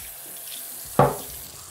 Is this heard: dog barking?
no